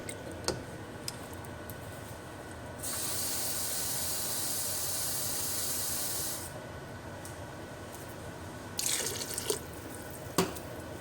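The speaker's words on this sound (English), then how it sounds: "All right, more water adding to it." A steady hiss of water pouring into a pot of taco soup for a few seconds, framed by quiet clinks and drips before and after.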